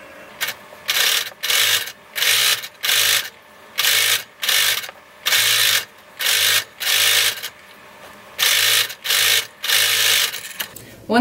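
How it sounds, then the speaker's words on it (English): A sewing machine stitches a seam on a fleece mitten cuff in about a dozen short, loud mechanical bursts separated by brief pauses, heard up close. "You're going to sew this seam with a 3/8 inch seam allowance. You can use a zigzag stitch or a serger."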